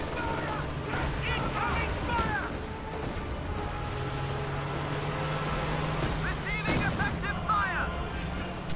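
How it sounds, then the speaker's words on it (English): Katyusha rocket barrage in a WWII strategy game, a battle-group headquarters being bombarded: dense rumbling explosions and crackling impacts run continuously, swelling at times, with a low steady drone and voices talking underneath. "Katyusha bombarding the battle group headquarters, wants to prevent repairs"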